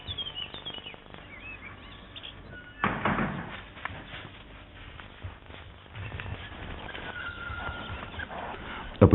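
Horses trained for Portuguese mounted bullfighting on a morning workout, hooves clip-clopping at varying pace with occasional louder thuds and faint birdsong in the background.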